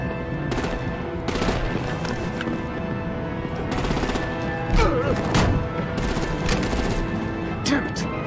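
Sustained video-game gunfire and artillery in Batman: The Enemy Within, dense bursts of automatic shots and heavier impacts running throughout, loud and close, with a voice or two briefly underneath.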